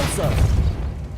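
Incendio and Repulso spells cast in the video game Hogwarts Legacy, heard as deep, booming magical bursts that rumble steadily under a voice shouting.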